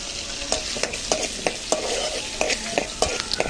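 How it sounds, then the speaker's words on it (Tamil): Onions sautéing over a low flame for a prawn curry, a steady sizzle broken by regular scraping stirs of a spoon against the pan, close and fairly loud, with no voices. "ஒரு 5 மினிட்ஸ் ஸ்லோ ஃப்ளேமில் வச்சு நல்லா வதக்கணும்"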